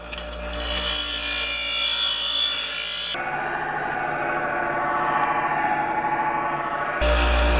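A blade being sharpened on a grinder throws sparks with a harsh, steady grinding rasp that runs continuously and fairly loud for several seconds, with no talk.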